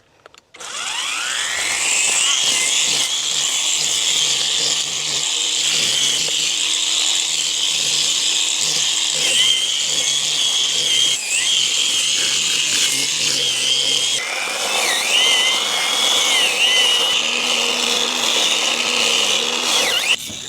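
An electric grass trimmer with a steel line blade whines continuously at high speed for a long stretch, its pitch shifting slightly as it cuts through grass, loud and close.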